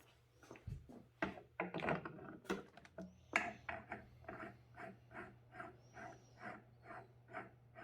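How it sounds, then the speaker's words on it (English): A propeller is fitted onto an LX F4F Wildcat 1.2M model airplane and tightened down, making a close series of rhythmic rasping, ratchet-like strokes after a few sharp handling knocks. "We're just going to be putting on the prop and tightening it down."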